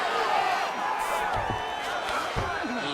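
UFC arena crowd cheering during a fight as the fighters rise from a long grappling exchange, a dense, steady roar of voices with whoops rising over it, heard alongside commentators talking.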